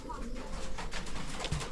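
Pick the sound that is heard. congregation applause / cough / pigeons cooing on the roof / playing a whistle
pigeons cooing on the roof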